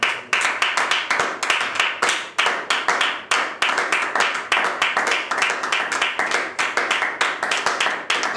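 A church congregation claps along in a fast, steady rhythm, many hands striking together in sharp repeated bursts that fill the room, with faint voices underneath.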